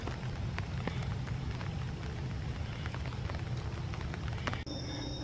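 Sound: light rain in park

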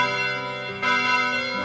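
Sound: distant bell ringing in a visual novel game

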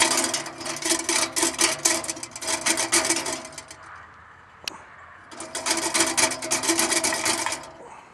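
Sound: grate moving back and forth inside wood gasifier burn tube

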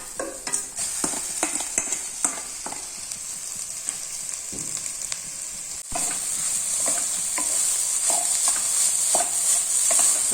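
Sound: stirring boiled noodles with scrambled egg in a pan

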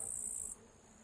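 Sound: grasshoppers chirping in a summer garden

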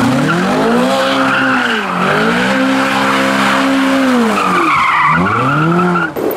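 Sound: Ferrari F12 doing donuts, tires skidding

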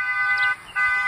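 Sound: car horn honking down the road

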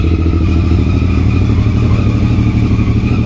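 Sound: Yamaha MT-09 Tracer 900 2017 motorcycle engine starting and running

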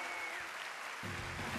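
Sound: festival audience applauding comedian Alex Ortiz

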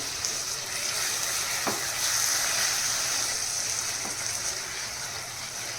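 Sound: chicken masala frying and stirring in pan

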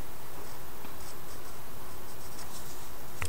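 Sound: coloring quickly with markers on paper

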